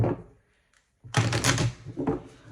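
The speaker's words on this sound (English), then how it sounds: "get me a shuffle." Tarot cards riffle and shuffle in a quick fluttering burst after a brief pause, close and crisp, ending with a few soft taps.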